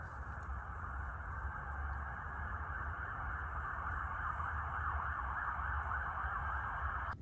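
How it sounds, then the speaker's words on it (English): Several emergency sirens wail continuously in the distance at night, overlapping into a steady layered howl heard from a cold winter campsite. "It's like 800 sirens."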